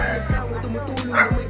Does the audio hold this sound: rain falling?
no